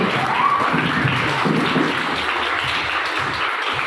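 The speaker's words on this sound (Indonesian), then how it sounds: "Tepuk tangan dulu buat mereka." Student audience at a school student council candidate debate applauding the candidates, a moderate, fairly even patter of clapping filling the room with some low background rumble.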